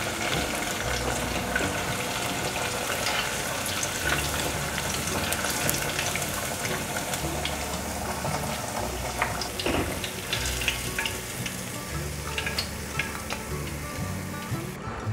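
Food deep-frying in hot oil until golden gives a loud, steady, close sizzle and bubbling that runs unbroken, with occasional faint clinks and stirring over it.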